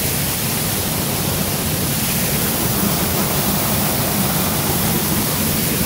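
Heavy, steady roar of a waterfall on a Tennessee property swollen after 22 hours of rain, a dense unbroken rush of falling water close by with no voices.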